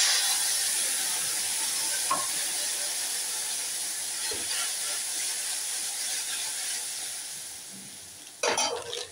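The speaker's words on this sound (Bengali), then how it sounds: "এবার আমি এই তেঁতুল জলটা দিয়ে দিচ্ছি।" Tamarind water goes into a hot pot of sambar dal, giving a loud, steady sizzle and hiss that slowly fades, with a few stirring knocks and a sharp burst near the end.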